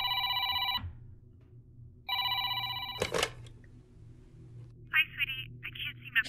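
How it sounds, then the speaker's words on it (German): A telephone rings in the indie horror video game Decadence. Two loud electronic ring bursts are separated by a pause, followed by a sharp clatter and softer chirping tones. "Oh, das Telefon."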